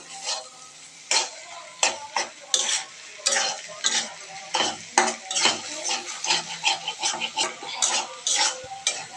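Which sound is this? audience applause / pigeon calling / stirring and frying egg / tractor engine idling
stirring and frying egg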